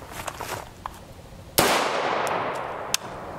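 A single sharp report from a 20-inch AR-15 rifle with a heavy barrel, firing .223 Remington 56-grain FMJ boat-tail ammunition, followed by a long ringing decay outdoors, with small clicks and clinks before and after.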